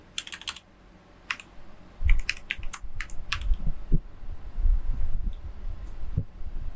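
Keystrokes on a computer keyboard while coding in Python: scattered sharp clicks in short bursts, then a single firmer press of the enter key, close and alone with no talk.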